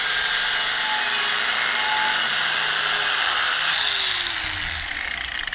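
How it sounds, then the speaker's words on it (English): Angle grinder fitted with a sanding disc works steel on a MaxxHaul trailer spare tire carrier, a loud continuous high whine running steadily throughout, with a slight pitch drop near the end as the load changes. "we've got the grinder."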